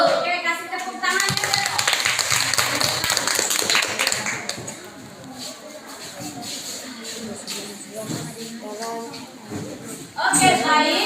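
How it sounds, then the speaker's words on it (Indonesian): Classroom applause: a burst of clapping from a group of students, loud and dense for a few seconds, then fading under a teacher's voice before a second short round of clapping near the end. "kasih tepuk tangan"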